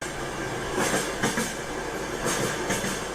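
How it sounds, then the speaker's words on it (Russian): Railway noise plays back for an earbud test: a steady rumbling train with rhythmic clickety-clack wheel beats over the rails, heard as a continuous, moderately loud wash of track noise with no voices. "шум железной дороги."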